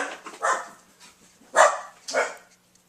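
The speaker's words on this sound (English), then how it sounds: "There goes my dog." A dog barks three times in short, irregular bursts, fairly close and loud, with quiet pauses between them.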